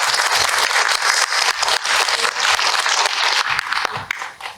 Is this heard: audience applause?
yes